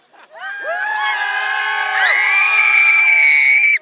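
A large crowd at a masonry event screams together in one loud, sustained roar that swells and holds for over three seconds before cutting off abruptly.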